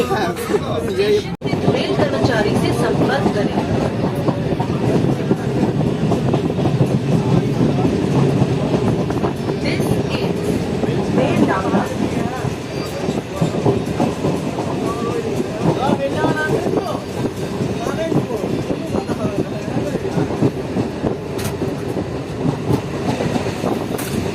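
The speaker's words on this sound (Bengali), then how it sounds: "আমাদের ট্রেন এখন চলে এলো বেলডাঙ্গা রেল স্টেশন" A Lalgola–Sealdah local passenger train runs on rails near Beldanga station in Murshidabad, with a loud continuous rumble and rattle throughout and passengers chattering in the background.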